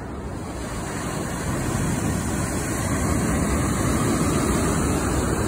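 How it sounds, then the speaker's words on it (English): Big ocean waves break on a beach in a steady, loud broadband roar, with wind buffeting the microphone throughout and no talking. "big waves"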